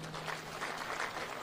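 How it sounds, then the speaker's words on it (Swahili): An audience at a Labour Day speech by Kenya's President Ruto applauds the labour leaders standing before them: a brief burst of dense, steady clapping with no voices over it. "Tuwapigie makofi hawa wadosi."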